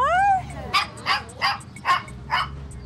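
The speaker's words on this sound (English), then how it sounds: "on hearing some yapping, she's pleased to find the Samoyeds now running freely in the yard." Samoyed puppies yapping in a yard outdoors, a high whimpering yelp followed by four evenly spaced sharp yaps, moderately close, no talking.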